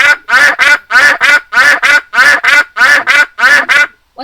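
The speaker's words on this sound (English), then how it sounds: "That's correct. It is a duck." A recorded duck quacks in a quick regular series of about eight loud, nasal calls, played back clearly during a children's online English animal-sound guessing game.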